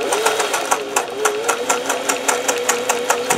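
A sewing machine fitted with a triple needle stitches steadily, its needle and bobbin producing a fast, even mechanical clatter with regular ticks and a faint whine underneath.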